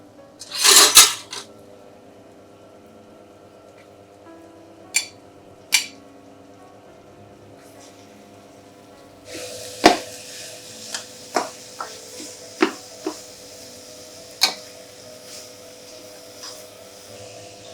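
Lamb mince and potatoes for keema aloo go into a cooking pan: a loud initial clatter, then scattered sharp metallic knocks and scrapes over a low background hiss that grows into a soft sizzle in the latter half.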